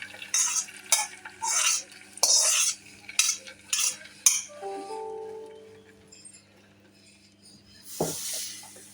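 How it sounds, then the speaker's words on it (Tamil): Ghee tempering with dried red chillies poured into a pot of Kumbakonam rasam and stirred: several bursts of scraping stirring, then a brief soft pour and a final clatter, close and moderately loud with no talk. "தாளித்து வச்சுருக்கோம் இல்லையா மிளகாய் வத்தல்லாம், இதெல்லாம் இப்போ நம்ம இதில் கொட்டிடலாம்."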